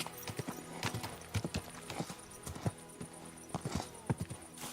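Horse hooves clip-clop steadily in Kingdom Come: Deliverance II, a brisk rhythmic walk of sharp knocks close up over a low ambient game background.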